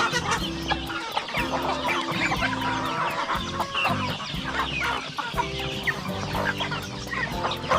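Several native chickens on a farm cluck continuously and loudly nearby, overlapping in a busy, rhythmic chorus.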